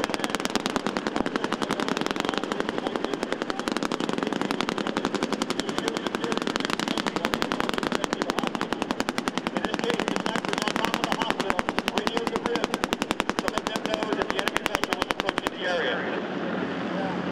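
Sustained, dense automatic gunfire roars almost continuously from machine guns at a special operations forces demonstration in Tampa, Florida, loud and rapid, then cuts off abruptly near the end, leaving a softer rumble.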